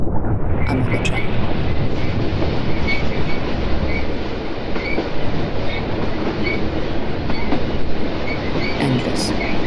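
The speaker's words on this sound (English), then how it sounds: "I'm on a train." A rickety old train running on rails, with a loud, continuous rumble and rattle of carriages and a rhythmic clickety-clack of wheels over joints, plus brief high metallic squeals.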